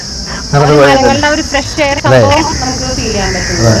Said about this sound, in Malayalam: ഭയങ്കര സൗണ്ട്, ചീവീടിന്റെ സൗണ്ടാണ്.